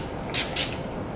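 Urban Decay All Nighter setting spray misted over makeup, two short sharp hissing sprays close by over a faint background hum.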